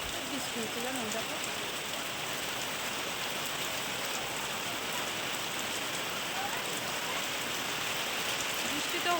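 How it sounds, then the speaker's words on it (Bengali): Steady rain pours down outside a home, an even, dense patter of drops on surfaces that continues unbroken at a moderate, close level. "বৃষ্টি তো হচ্ছে"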